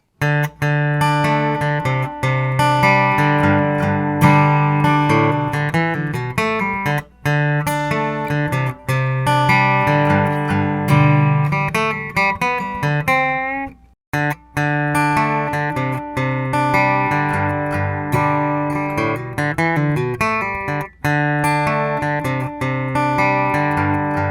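An acoustic guitar plays strummed chords and quick melodic fills in a steady rhythm, loud and close, with one short pause midway.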